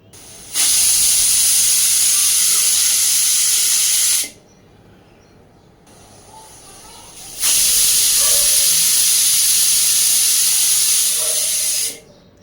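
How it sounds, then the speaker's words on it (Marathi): A pressure cooker of coconut rice on medium heat gives two long, loud bursts of hissing steam, separated by a few seconds of quieter background. "मस्त कुकरच्या इथे दोन शिट्ट्या करून घेतलेल्या आहेत आणि प्रेशर देखील रिलीज झालेला आहे"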